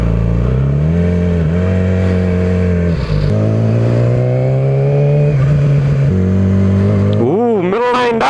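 A Yamaha R6 sport motorcycle engine revs hard and climbs through gears, loud and close, with high-pitched rising whine, brief dips at shifts, and a final sharp rev swing near the end.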